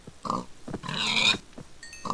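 Pigs in the Minecraft video game grunt and oink in several short bursts, fairly close and clear, with no talking.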